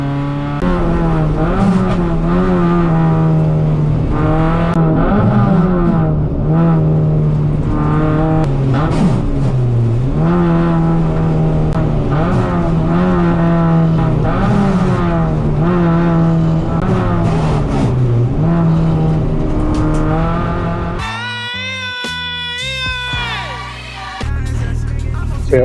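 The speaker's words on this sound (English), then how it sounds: "You hear just trying to grab second gear there, it just was grinding a little bit." Onboard a race car, the engine drones loudly and steadily, rising and falling in pitch, while the gearbox grinds going into second gear. The engine note breaks up near the end.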